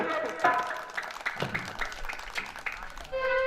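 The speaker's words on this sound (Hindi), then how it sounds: "चलिए आप लोग कस के ताली मारिए।" Villagers clap at a fair's stage show, a short uneven round of applause with scattered claps, ending as a sustained musical tone starts.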